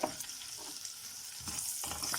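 Leftover boiled meat and spices sauté in a pan for kabsa, a brief, close sizzle broken by soft stirring scrapes and shuffles, with no voices.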